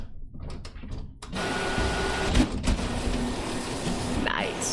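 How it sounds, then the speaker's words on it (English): An idle printer sound effect triggered from a soundboard during a live coding stream, a steady mechanical whir and hum with a few brief clicks, starting after a short pause and running continuously. "That's a solid printer sound."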